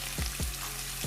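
A spice mixture sizzles steadily while being fried in a pan, a brief close hiss broken by a few soft scraping stirs, with no voices.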